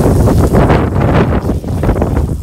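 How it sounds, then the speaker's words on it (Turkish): Heavy wind buffets the microphone beside a school service vehicle, a continuous loud low rumble with gusty swells throughout and no voices. "Burada çok rüzgar var."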